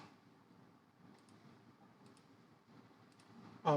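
Several soft, quiet computer mouse clicks spaced apart over faint room noise, ending with a louder rustle.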